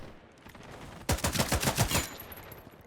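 Rapid automatic AK rifle fire in the shooter game '83, a loud burst of about eight closely spaced shots lasting roughly a second, with no talk over it.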